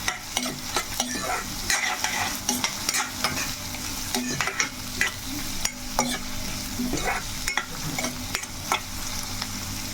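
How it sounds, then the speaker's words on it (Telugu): Three small onions sliced thin sizzle in hot oil in a pan for a chicken curry, a steady close crackling fry broken by repeated scraping of a stirring spoon, without talk. "ఇప్పుడైతే నూనె చక్కగా మనకి మరుగుతుంది. ఉల్లిపాయ ముక్కలు అయితే వేసేసుకుందాము."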